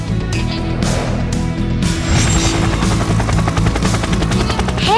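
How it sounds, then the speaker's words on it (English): A helicopter flying and hovering close by, its rotor thudding as a loud, steady pulsing drone with dense blade chop that continues without a break. "I am a helicopter. I can fly and hover in the sky."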